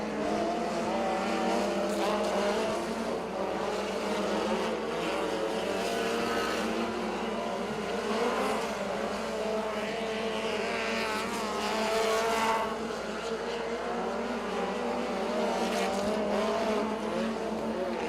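USAC Midwest Thunder Midget race cars circle the track at speed during qualifying, a steady loud roar of engines that swells and fades as cars pass, continuous throughout.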